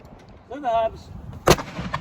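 A Civil War cannon goes off in a single sharp, loud report right after a shouted command, with a short rumbling tail and outdoor background noise.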